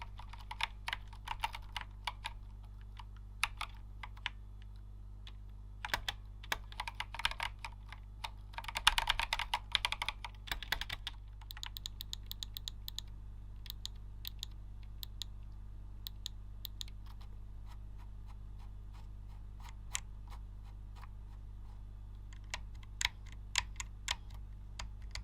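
Typing on a Corsair K70 RGB keyboard fitted with linear switches, a steady run of close, soft keystrokes with a brief flurry of faster keys partway through, heard alone over a low background hum.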